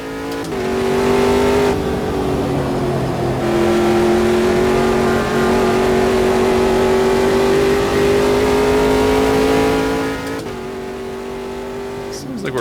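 A race car engine lapping Kyalami in a racing game, holding a loud, steady high-pitched drone with small pitch shifts through gear changes, then dropping slightly before rising again near the end.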